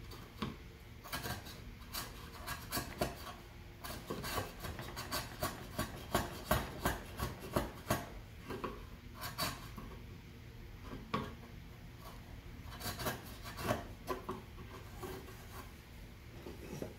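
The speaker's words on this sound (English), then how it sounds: "we're going to have to chisel out these grooves just a little bit more" A chisel cutting grooves in wood, a close series of irregular scraping and tapping strokes, some in quick clusters, with short pauses between.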